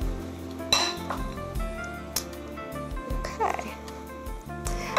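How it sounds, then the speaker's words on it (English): Salad being tossed with tongs in a bowl, dressing just added, giving a run of close clinks and scraping rattles under a continuous steady background hum. "I'm gonna use my tongs to lightly toss it"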